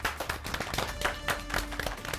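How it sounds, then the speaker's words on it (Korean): A short burst of scattered hand clapping from a few people, uneven and moderately loud, over a busy room background. "박수."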